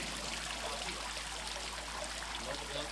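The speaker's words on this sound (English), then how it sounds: "the wine or the juice comes out those slots into the press pan right here" Wine juice running out through slots along the bottom of a winemaking press into the press pan, a steady close trickle and splash of flowing liquid that stays even throughout.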